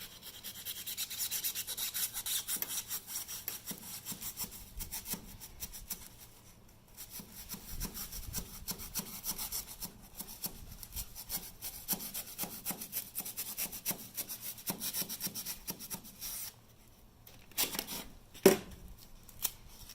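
A utility knife saws and rasps through dried expanding foam around an entry door frame in a box truck, giving repeated scratchy cutting strokes, close and fairly quiet, with a short pause midway and a sharper knock near the end.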